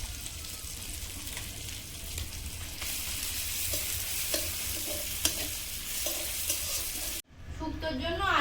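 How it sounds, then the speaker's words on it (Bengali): Dried red chili, cumin and crushed garlic are tempered in hot oil with a loud, steady sizzle and occasional stirring scrapes. Near the end it cuts out briefly, then a fresh, sharper burst of sizzling rises. "শুক্তোয় ফোড়ন দেবো, শুকনো লঙ্কা, জিরে,"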